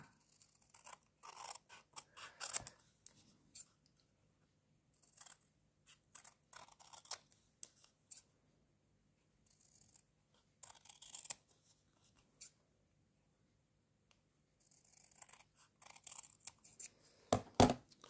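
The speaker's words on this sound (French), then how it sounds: "donc je découpe tout autour" Scissors snipping around a paper Easter embellishment, close and crisp, cutting in irregular bursts of short snips with pauses between them.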